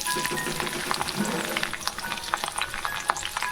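Capsicum dropped into hot oil for vegetable chowmein, giving a steady bright sizzle and crackle with scattered pops as the pieces fry, close and fairly loud, no talking.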